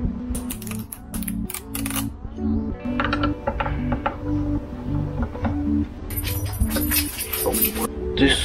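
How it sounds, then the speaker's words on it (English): Clicky mechanical rattling and small metallic taps as screws are taken out of an EcoFlow Delta 1300 portable power station casing, close up, in irregular bursts with sharper clatter near the end, no one speaking. "And then you take these screws off to take out this and also the sides."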